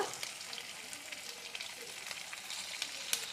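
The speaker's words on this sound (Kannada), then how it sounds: "ತೆಂಗಿನೆಣ್ಣೆಯಲ್ಲಿ ಮೀನು ಕಾಯಿಸುವಾಗ" Fish frying in hot coconut oil with a couple of curry leaf stems, giving a steady, close crackling sizzle with scattered sharp pops across the whole stretch and no voices.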